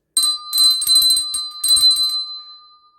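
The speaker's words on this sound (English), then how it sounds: "I have a beer bell. And for a long and happy marriage, what you want to do is just every so often just give it a ring like this." A small metal beer bell rung in several quick shaking bursts, bright and close, with ringing that fades out between bursts.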